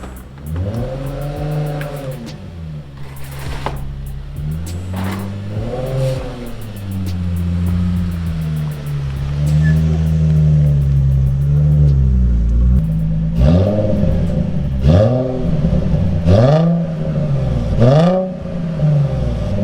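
A Nissan 350Z engine revving repeatedly in a garage, rising and falling in pitch with several loud throttle blips, close by and with no talking.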